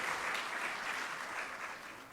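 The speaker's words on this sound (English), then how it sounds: "Let's give them another round of applause" Audience applause following a traditional dance by a Caribbean dance company at a conference, a brief, fairly soft wash of steady clapping without voices.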